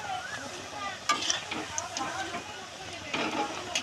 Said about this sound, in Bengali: তেল গরম হয়ে গেছে, এখন আমি তেলের ভিতরে ছেড়ে দিচ্ছি।